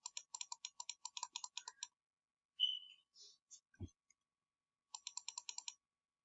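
Computer keyboard and mouse clicks come in quick, crisp bursts at close range, with a pause in the middle that holds a brief whistle-like tone and a soft thump before the clicking resumes.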